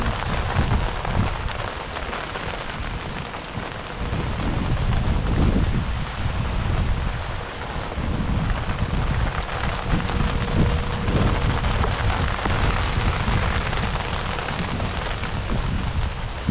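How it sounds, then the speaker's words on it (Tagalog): Sudden heavy rain pours steadily on a farm field, with low rumbles of thunder rolling underneath and some wind buffeting the microphone throughout. "biglang ulan silong muna tayo"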